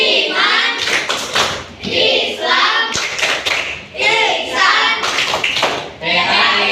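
A school class in an Islamic religious education lesson claps a rhythmic chant together, with loud bursts of clapping alternating with children's chanted words in a room.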